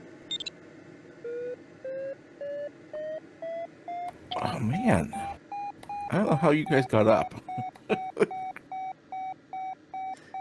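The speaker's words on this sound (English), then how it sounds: "You know when that vario thing beeps, you have to turn." A variometer in the Condor 2 glider simulator gives a regular series of short electronic beeps that rise in pitch, continuing steadily while people talk over it.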